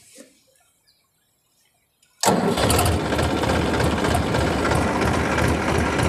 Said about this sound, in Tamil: வண்டி ஸ்டார்ட் பண்ணுவோம்